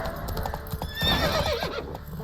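Roach the horse galloping in The Witcher 3 video game, rapid hoof clip-clops with a loud whinny in the middle, close and alone without talk.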